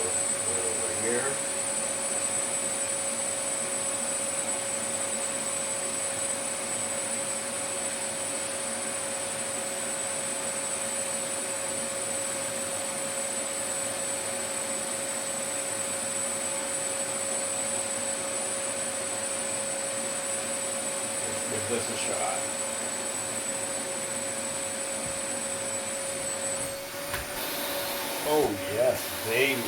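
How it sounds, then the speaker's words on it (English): A vacuum motor for vacuum forming whines steadily at an even pitch for the whole stretch, with a brief spoken remark and some handling noise near the end. "I think I'm going to go ahead and turn my vacuum on."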